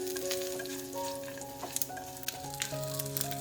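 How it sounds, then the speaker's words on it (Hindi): Chana dal, urad dal and sesame seeds fry in a pan until golden, making a gentle sizzle with several sharp stirring taps over soft background music. "अब इन्हें हमें गोल्डन होने तक फ्राई कर लेना है।"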